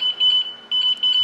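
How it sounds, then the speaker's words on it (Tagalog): A motorcycle anti-theft alarm goes off after the bike is moved slightly, giving loud, high electronic beeps in short repeated bursts with brief gaps between them. "Ginalaw ko lang ng konti, nag-a-alarm na."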